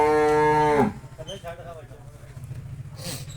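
A Holstein Friesian cross-breed cow gives one loud, deep moo up close, then it fades into a low, steady rumble of background noise.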